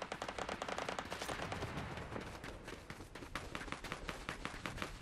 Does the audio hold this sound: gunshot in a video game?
yes